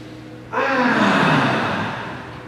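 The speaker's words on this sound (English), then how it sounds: "Okay, let's inhale." A group of people drawing in a long, deep inhale together during a breathing exercise at a conference, one sustained swell of breath starting abruptly after a quiet moment and fading slowly.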